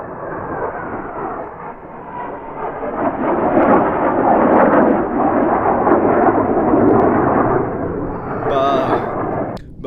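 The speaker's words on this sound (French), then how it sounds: "c'était la petite pause rafale de l'armée de l'air" French air force Rafale fighter jets roar overhead, a loud sustained broadband rumble that swells and holds for several seconds, heard from a 4x4 camper on a road trip.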